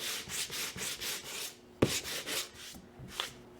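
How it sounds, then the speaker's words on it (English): Sandpaper rubbing back and forth over a painted wood board in steady, close strokes, a few rhythmic passes, then a brief pause, a sharp knock and a couple more strokes. "The sanding will drag a little bit of your other color over the other areas."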